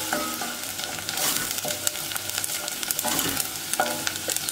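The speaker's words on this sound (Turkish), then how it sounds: "Soğanları pembeleşene kadar kavuracağım." Chopped onion frying in melted butter in a pan, a steady close sizzle with stirring scrapes and small clatters throughout.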